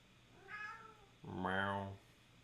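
A cat gives two distinct meows, a shorter call followed by a longer, louder drawn-out cry, heard close by in a quiet room during a 3D printer assembly session.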